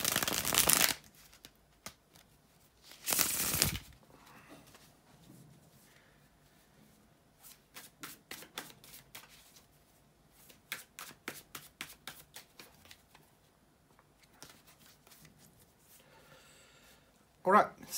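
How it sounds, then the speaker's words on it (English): Tarot cards being shuffled close up, with two loud riffle bursts followed by a long series of quieter rhythmic card slaps and flicks. "just bear with me a few seconds here to shuffle the tarot cards"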